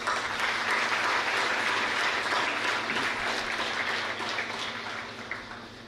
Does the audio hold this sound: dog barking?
no